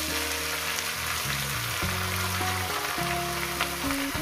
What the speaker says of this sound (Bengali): শাকটাকে দিয়ে যেরকম শাক ভাজা করে সেইভাবে আমি রসুনের সঙ্গে ভেজে নেব